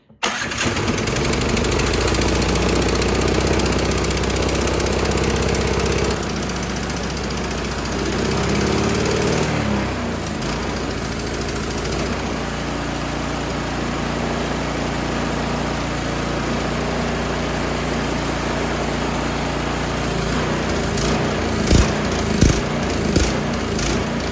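A Troy-Bilt Squall 2100 snowblower engine runs roughly on full choke with a carburetor needing cleaning, a loud, uneven sputtering drone that shifts pitch and surges, with a few sharp pops near the end.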